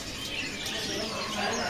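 Caged birds, including bayaman birds, chirping at a bird-selling kiosk. The chirps are thin and scattered over a dense, steady wash of background noise, with no talk.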